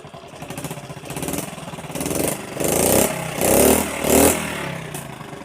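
A Honda motorcycle engine with a newly replaced throttle cable idles, then revs up in several short, rising bursts that grow louder toward the end, heard close and alone.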